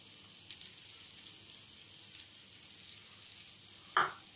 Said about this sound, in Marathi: आता आपला कांदा भाजत आलेला आहे, व्यवस्थित ब्राउनिश होत आलेला आहे